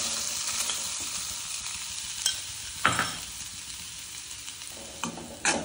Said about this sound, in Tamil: தேங்காய் பூவை சிம்ல வச்சு கொஞ்ச நேரம் வதக்கிக்கலாம்.